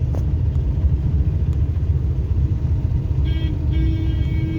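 A car driven by a learner in the slow lane gives a steady, close low rumble of engine and road noise from inside the cabin, with a faint tonal chime toward the end.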